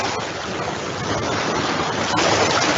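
A loud, continuous wash of surf rushes and swells, with waves breaking close by and building slightly toward the end.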